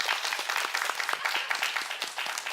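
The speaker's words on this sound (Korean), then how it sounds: "박수 한번 해주시죠" A lecture audience claps steadily throughout, a continuous, fairly loud wash of many hands with individual claps standing out.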